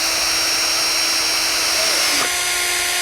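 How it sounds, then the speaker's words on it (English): A power drill with a small bit starts pilot holes in wood for a barn swallow nest. A steady, loud motor whine runs throughout, with a brief pitch dip near the end. "I put a small drill bit in to start these holes for screwing in the nest"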